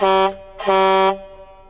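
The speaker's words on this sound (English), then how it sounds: "Let's do one more honk before we get serious." Two loud, blaring horn honks in quick succession, a short blast then a longer one, close and brassy.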